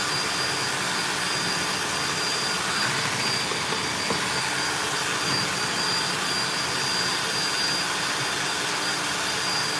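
An electric mixer runs in a continuous high whir, whipping egg whites with sugar and egg white powder for peanut flour macarons, a steady loud drone with no talk over it.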